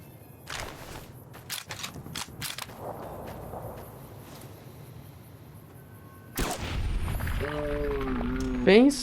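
Small bombs go off in the video game Fallout: New Vegas as a burst of sharp, punchy pops and thuds in the opening seconds, followed by quieter game noise and a voice toward the end.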